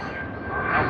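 Air New Zealand airliner in all-white livery turning to arrive at Sydney Airport, a steady jet engine roar that swells slightly toward the end of the moment, with no voices.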